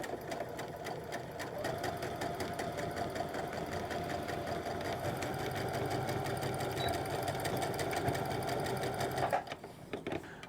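A sewing machine stitches a waistband onto an A-line pull-on skirt, running in a steady, rapid mechanical hum with fast rhythmic needle clatter before stopping abruptly near the end; quiet and close.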